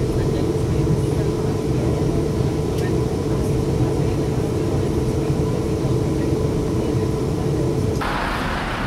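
A train pulling in at a station on the way to Liverpool Lime Street, a continuous low rumbling drone with steady mechanical roar held for most of the stretch, shifting abruptly near the end.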